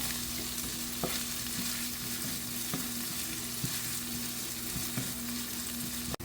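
Onions fry in a pan for makhana kadhi with a constant, loud sizzle and occasional sharp clicks of a spoon stirring against the pan, close and uninterrupted by voices.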